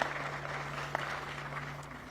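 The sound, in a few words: applause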